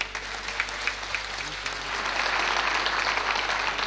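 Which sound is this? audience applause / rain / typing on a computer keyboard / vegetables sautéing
audience applause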